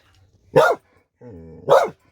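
Two sharp, loud dog barks at a goat on a farm, close by, with a short whiny vocal tone between them.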